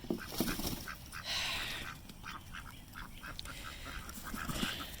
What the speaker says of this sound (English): And now for some ducks from the Duck Shack in Kalamazoo, Michigan.